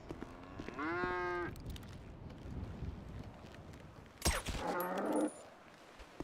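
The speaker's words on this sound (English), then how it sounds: "Oh, lordy, there's a cow." Two moos from a cow in the FiveM (GTA V) video game, a clear short call then a rougher, louder one a few seconds later, over low wind and shuffling noise with no talking.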